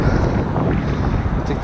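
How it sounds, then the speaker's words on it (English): Strong wind buffets the microphone outdoors on a trout fishing trip, a loud continuous roar with low rumble and no pauses across the whole stretch. "And the wind seems to have picked up too"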